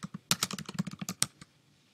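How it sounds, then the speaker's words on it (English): Typing on a computer keyboard while entering text into a mind-mapping web tool, a quick run of about a dozen crisp close key clicks over a second and a half, then quiet. "I'm going to type in"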